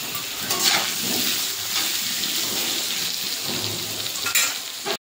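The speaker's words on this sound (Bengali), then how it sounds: "মাছ সব ভাজা হয়ে গেছে, আলুটা ভেজে নেবো।" Potato pieces fry in hot oil for a fish curry, a dense, steady crackling sizzle like light rain that runs throughout and cuts off abruptly at the end.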